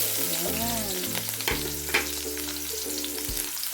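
Chopped onions sizzling in hot oil in a frying pan for a pork dish, a steady close frying hiss with occasional stirring scrapes, no one talking.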